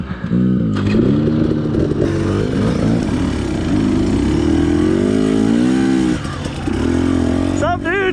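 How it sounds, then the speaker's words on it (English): A two-stroke KTM 300 EC dirt bike, an older model, ridden along mountain single track, its engine revving and droning steadily throughout, loud and close. "He's on a gas 300 EC, I believe, but the older models, not the new ones."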